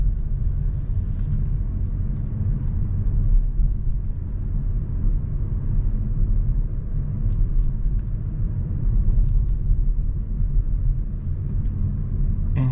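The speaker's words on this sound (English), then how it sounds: "now we are driving with just electric power." A 2026 Toyota Aygo X GR Sport full hybrid runs on electric power alone at night, heard as a steady low cabin rumble of road and tyre noise with no engine note throughout.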